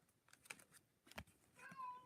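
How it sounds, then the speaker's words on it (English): A cat meows faintly in the background, a couple of short calls followed by a longer drawn-out meow, with soft clicks and rustles nearby. "we may not hear an end to this meowing"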